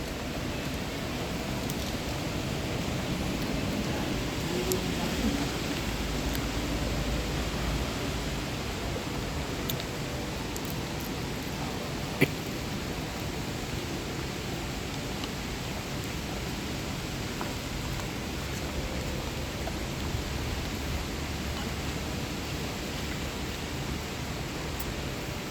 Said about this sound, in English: So you can see the rain.